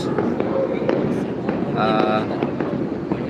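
Fireworks exploding over the New Year celebration at KLCC, Kuala Lumpur, with repeated pops and crackles under a steady crowd murmur and a voice talking nearby.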